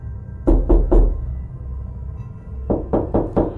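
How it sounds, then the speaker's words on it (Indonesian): Two bursts of loud knocking on a door, a quick group of three sharp raps followed by a pause and then a faster run of five heavier, harder knocks, close and alone with no talking. "Sekali lagi terdengar suara ketukan. Namun, kali ini terdengar lebih keras seperti seseorang yang sedang marah."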